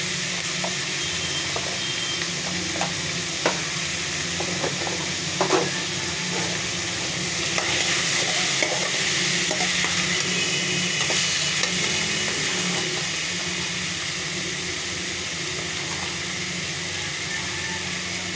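Spices for pulao frying in a pan: a steady, close hiss and sizzle with occasional pops and crackles, intensifying briefly in the middle before settling back to a constant fry.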